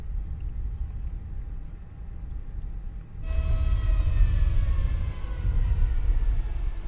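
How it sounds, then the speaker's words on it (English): A quiet hum gives way to a loud whirring Airbus A320 brake fan in Microsoft Flight Simulator that kicks in abruptly and keeps running with a rising, siren-like whine. "So that's the brake fan."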